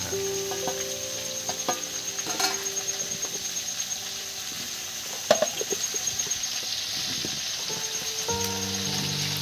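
Kashmiri aloo dum being stirred in a pot for a village feast gives a steady low sizzle with scraping stir strokes and a sharp clank near the middle, continuous and fairly close.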